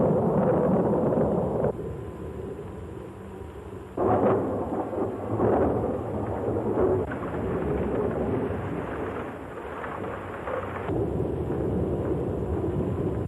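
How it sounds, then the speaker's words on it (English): A thunderstorm with heavy rolling thunder crashing in several loud, rumbling bursts one after another, with a steady rain and wind wash in between and no talking. "Thunder like heavy artillery."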